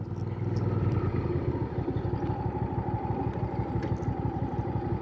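A Hyosung GV650 Aquila motorcycle engine running close by, a brief rev early on settling into a steady, pulsing idle with mechanical clatter.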